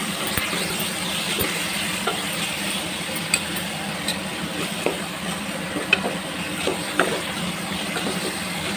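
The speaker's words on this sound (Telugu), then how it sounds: "ఇది నూనెలో ఒక 10 మినిట్స్ బాగా వేయించండి." Tomatoes frying in oil for a chicken curry, stirred in the pan: a steady soft sizzle and hiss with faint scraping taps from the stirring, close and alone without voices.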